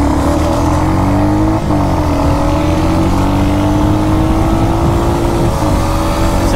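A Bajaj Pulsar NS160 and a Royal Enfield Hunter 350 motorcycle drag race with engines roaring loud and close, pitch climbing steadily through the gears with a brief dip at a shift.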